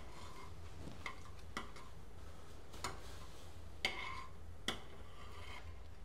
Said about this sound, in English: You have to stir it more frequently now because it will start to boil up if you don't